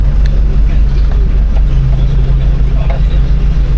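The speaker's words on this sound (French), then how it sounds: "Le tracteur tourne pas bien vite." A Claas Arion tractor engine idling slowly in economy mode, a steady low diesel drone and rumble, loud and close, with no change in pace.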